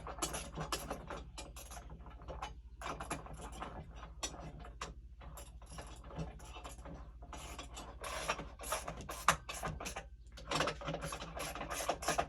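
Bolts being tightened while setting up a Laserball pinball machine: quiet, irregular ratcheting clicks and scraping metal rubs in short bursts, close by, with no speech.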